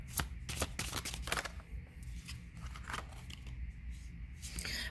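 Cards from a love card deck being shuffled and drawn, a quick run of crisp riffling slaps and flicks, close and fairly quiet, with short pauses between bursts.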